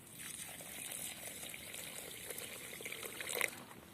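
Water poured into sugar in a pan to make syrup for peanut chikki, a soft, close trickling and splashing that runs for a few seconds with a slightly stronger burst near the end.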